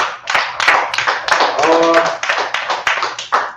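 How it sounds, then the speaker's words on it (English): Sharp, rhythmic hand claps ring out in quick succession, with a voice briefly sounding amid them. "Clap it up"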